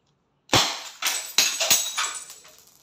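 An SNR 357 revolver airgun fires double action at a bottle, giving four or five sharp, loud cracks at uneven intervals, each with a short ringing tail and no speech.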